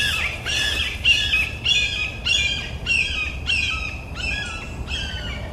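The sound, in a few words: red-shouldered hawk calling at a Florida nature preserve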